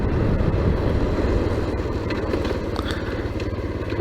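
A Boom Vader 125 motorcycle on a ride, its small single-cylinder engine droning and puttering steadily and loudly throughout with a rough, rapid pulse and no talking.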